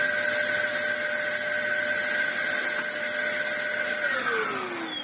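A restored Dyson DC07 vacuum cleaner running with a loud, steady motor whine close by, its pitch falling slightly near the end, and no talk.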